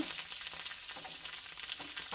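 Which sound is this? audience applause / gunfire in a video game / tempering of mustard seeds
tempering of mustard seeds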